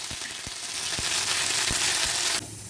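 Garlic, dried red chillies and curry leaves sizzle steadily in hot oil for tamarind rice, a dense broadband crackle with occasional soft stirring knocks, ending abruptly as the sizzle drops away.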